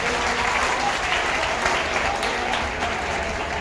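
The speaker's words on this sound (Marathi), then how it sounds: "टाळ्या वाजवा तुमच्यासाठी." Dense, sustained applause from a large audience at a school motivational talk, loud and continuous, a full roar of clapping with no gaps.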